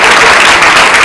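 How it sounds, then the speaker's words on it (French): An audience at a tribute concert at the New Morning venue applauds in a dense, loud, unbroken wash of clapping throughout the brief moment. "Si on peut applaudir pour les médias qui sont présents ce soir au New Marine."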